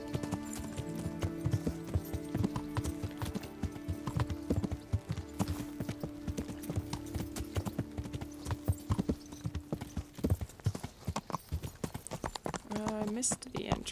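Steady clip-clop of horse hooves trotting along in the video game Kingdom Come: Deliverance, with a person talking over much of it and game music or ambience in the background.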